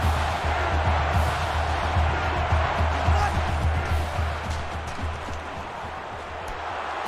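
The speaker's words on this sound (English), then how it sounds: "This crowd is almost shaking the stadium." Large stadium crowd roaring at a 2019 Auburn versus Florida college football game, a dense, continuous wash of cheering noise that swells and slowly eases, with commentary talk running over it.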